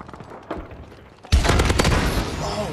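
Rapid bursts of EM1 Polar Vortex laser gun fire in Call of Duty: Advanced Warfare, a loud continuous stream starting partway through after quieter game noise, with a player's voice faintly under it.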